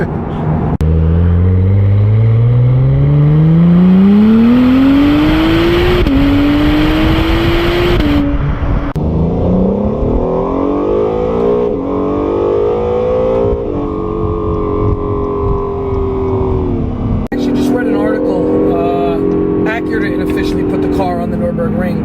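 A 2017 Acura NSX supercar accelerating hard, its loud engine note climbing steeply through several gear changes with brief dips between shifts, close and continuous.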